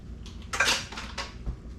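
Ingredients for pull-apart pizza bread are mixed in a bowl with a utensil, producing a few clinking, scraping knocks against the dish, close and moderately loud.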